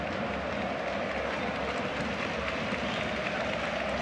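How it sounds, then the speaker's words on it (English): Artificially added stadium crowd noise plays as a steady, distant roar at a Europa League final between Sevilla and Inter Milan, a continuous wash with no distinct cheers. "if you want to watch this game without the added crowd noise"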